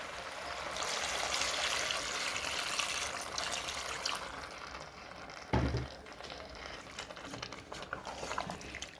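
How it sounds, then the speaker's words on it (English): Water is poured into a pot of peas and potatoes as a steady, close rushing stream, followed by a brief clatter and quieter trickling. "Now we add some water"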